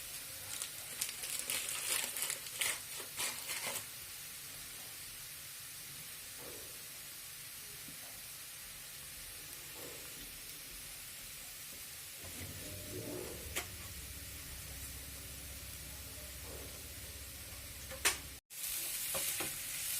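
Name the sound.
stirring butter garlic noodles with black pepper in pan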